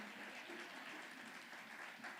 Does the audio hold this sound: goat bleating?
no